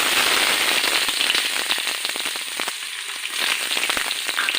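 Mustard seeds and onions crackle and spit loudly in hot coconut oil for sambar, a dense continuous sizzle with rapid popping throughout and no voices.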